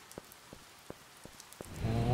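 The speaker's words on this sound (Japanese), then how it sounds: "っていうか雨降ってるな。" Rain falling in the video game The Rewinder: sparse, evenly spaced raindrop ticks at first, then a louder wash of rain and a tonal swell that rises at the end.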